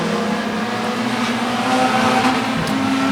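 Race cars on a short track in a heat race, including a 2001 Honda Prelude and a Chevy Cobalt, engines droning and whining loudly at sustained revs with a rising pitch near the end, no voices heard.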